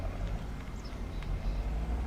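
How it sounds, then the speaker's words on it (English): Approaching car traffic in Farming Simulator 25 on the Montana map: a steady low engine rumble and road drone, moderately loud and continuous, with no talk. "Hang on, we've got traffic incoming."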